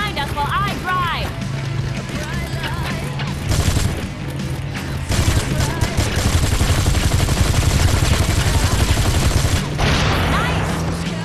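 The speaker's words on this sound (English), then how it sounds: "take this gun and shoot at the assholes behind us while I drive" Rapid bursts of automatic gunfire and crashing impacts fill a GTA video game car chase, loud and dense, with game characters' voices talking over the shooting.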